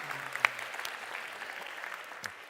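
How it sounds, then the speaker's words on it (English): A crowd at a college district convocation claps briefly, a soft diffuse patter of many hands with a few louder individual claps standing out. "so give yourselves a quick round of applause"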